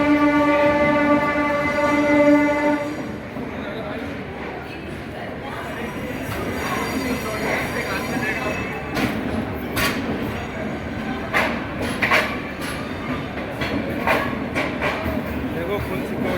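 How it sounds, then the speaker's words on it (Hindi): A Rajdhani Express passenger train at New Delhi station, running from Delhi toward Dibrugarh, with a horn blast at the start and then steady rumbling and wheel clatter on the rails. People talk nearby over the continuous noise. "जो आप ये ट्रेन देख रहे हो ये दिल्ली से डिब्रूगढ़ जाती है।"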